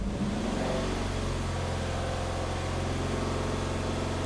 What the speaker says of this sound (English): And let's give it some rev